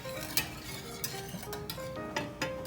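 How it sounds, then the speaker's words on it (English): Boiling gravy for poutine being slowly stirred in a pot, soft scraping strokes and light clinks of the spoon against the pan over a faint bubbling background, quiet and close. "just slowly stir it for it to thicken"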